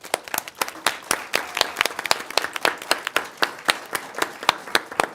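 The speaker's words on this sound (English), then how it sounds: "stand up and get you a round of applause." Scattered applause rises from a board of trustees meeting audience, a modest group clapping in uneven, distinct bursts rather than a dense roar, fairly close and continuing steadily throughout.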